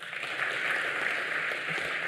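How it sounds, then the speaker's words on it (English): An audience at a university research and innovation week event gives sustained, even applause that holds steady for a couple of seconds with no pauses. "can you at least clap for us?"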